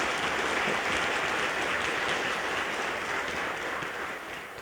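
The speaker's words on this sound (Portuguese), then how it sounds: "e também para o Arthur nós vamos dar uma bonita salva de palmas." Congregation applauding during Sunday Mass in the Ordinary Time liturgy, a dense, steady wash of many hands clapping that fills the church and fades slightly toward the end.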